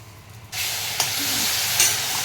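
Bay leaf pieces and cumin seeds hit hot oil with a sudden loud, steady sizzle that starts after a brief quiet and holds, with a couple of small pops and a stir.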